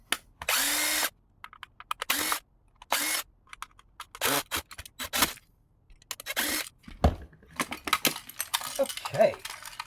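A power drill whirs in short bursts, backing screws out of a scrapped R/C car, several separate buzzes broken by clicks and rattles of small parts and plastic being handled nearby.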